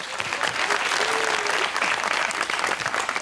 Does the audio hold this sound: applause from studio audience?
yes